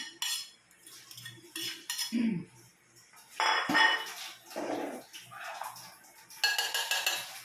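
Utensil clinking and scraping against a bowl while mixing Lumpiang Shanghai filling of carrot, onion and garlic, in irregular bursts of light clatter with brief pauses, fairly close.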